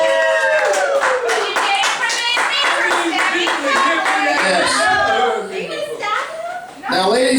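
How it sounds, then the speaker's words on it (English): A crowd claps in a burst of applause, loud and close, with some cheering and chatter mixed in before it fades and briefly swells again. "Give him another round of applause."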